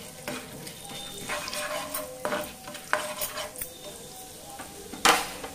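Chana dal tipped into a hot pan and stirred, a soft sizzle of frying under scraping spoon strokes and light clinks of metal cookware, close by.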